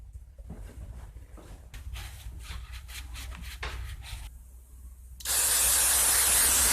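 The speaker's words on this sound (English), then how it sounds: "This is carburetor and parts cleaner. I'm going to just spray off this plate." After some soft rubbing and handling noises, an aerosol can of carburetor and parts cleaner sprays onto a plate from an Echo GT-225 string trimmer with a loud, steady hiss that lasts until the end.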